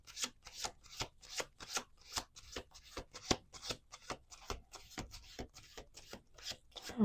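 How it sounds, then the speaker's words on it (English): Repeated crisp riffling bursts of playing cards being shuffled, close up, in a quick irregular rhythm with no talking. "Let's do 1 more shuffle here."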